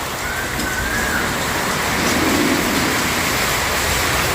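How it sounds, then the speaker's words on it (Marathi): Heavy rain roars steadily with gusting wind, a dense, loud wash of noise with no voices. "खूप म्हणजे खूप जोराचा पाऊस आलेला आहे आणि हवा आहे"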